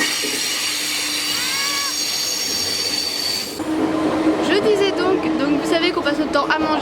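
Paris RER commuter train rumbling along steadily, with high wheel squeals and tonal whines; after a few seconds the noise shifts to rattling carriage clatter and brief squeals, with people talking underneath.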